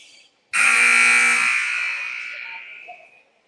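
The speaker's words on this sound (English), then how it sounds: "All right, so buzzer blows." A loud electronic buzzer sounds one long sustained blast at a girls' high school basketball game (EL vs Deshler), holding steady for about a second and a half before slowly fading out.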